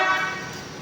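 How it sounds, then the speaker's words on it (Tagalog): A Maruko car horn fitted to a Toyota Hiace Commuter Deluxe van blasts one steady, loud, close tone that holds for nearly a second with no voices. "Maruko horn."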